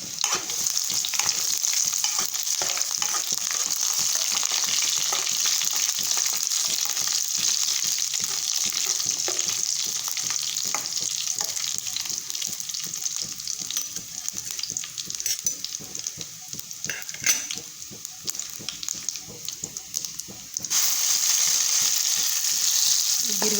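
Cumin, mustard seeds and garlic fry in hot oil in a pan, a steady bright sizzle with crackly spitting that runs unbroken and loud for over twenty seconds.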